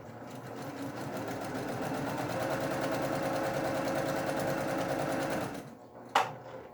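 A sewing machine runs steadily while chain piecing quilt blocks for a stained glass quilt, its fast, even stitching whir continuing for several seconds before it slows and stops with a brief click.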